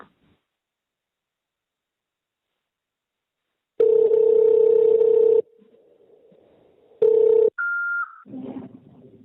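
Telephone keypad tone after pressing 1 on an automated call line: a long steady beep, a short pause, another beep, then a higher tone as the call connects.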